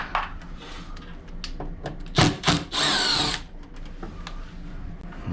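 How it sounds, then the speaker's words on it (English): A power tool drives screws out of the motor of an LG Multi V concealed duct unit. Close, sharp whirring bursts with short pauses between them, no talking. "All right, let's get the 4 screws out."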